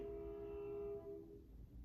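A passing train sounds a sustained horn tone that holds then drops away, leaving a low rumble, heard from a distance outdoors.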